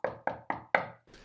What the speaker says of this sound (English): no sooner had he finished saying that when it went knock,